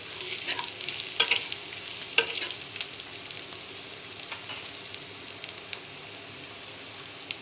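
An onion-free vegetable mix fried with asafoetida in a pan, stirred with repeated spoon scrapes and clicks over a steady, soft sizzle, close and alone with no talking.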